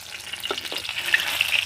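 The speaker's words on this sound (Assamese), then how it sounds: "এয়া মই মিহিকৈ কাটি লোৱা পিঁয়াজটো তেলত দি দিছোঁ" Finely chopped onion frying in hot mustard oil in a wok, a steady close sizzle with crackling pops and a faint stirring scrape, no voices.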